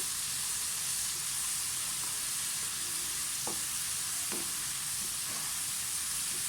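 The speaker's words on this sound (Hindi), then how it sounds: "इसको अच्छी तरह से भूनें" Dry spice masala with garam masala being roasted in a pan for a white chickpea breakfast dish, a steady broadband sizzle with a few soft scraping stirs of a spoon, close and continuous with no voices.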